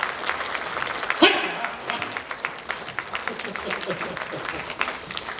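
Audience at a palmistry demonstration during a psychic fair applauding, with a loud clap near the start and then a run of scattered, uneven claps at a moderate level while a voice talks faintly underneath.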